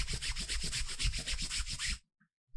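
Cloth rubbed briskly back and forth on an ilavam panju (silk cotton) mattress to test its dye, a close, rhythmic scrubbing in about a dozen quick even strokes that stops suddenly and leaves near silence.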